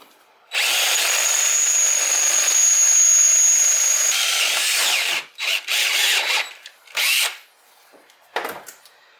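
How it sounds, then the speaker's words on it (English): Power drill boring a 21/64 hole through a Honda Shadow shifter peg, loud close whine held for about four seconds, then a few short bursts as the bit is worked, no talking. "So now we've drilled our hole for the bolt."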